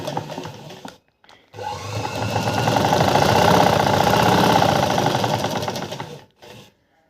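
Sewing machine running steadily while stitching the bottom front pleat of a blouse, a continuous close whirring hum of about five seconds after a brief start, with short pauses at either end and no talking.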